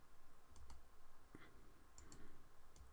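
A computer mouse clicks during AutoCAD work, faint and close: a few sharp, separate clicks, some in quick pairs, over a quiet room hiss.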